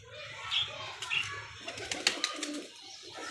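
Pigeons coo in a kept loft of breeding pairs, soft repeated throaty calls with some chirps and wing flutters nearby, under a faint background murmur.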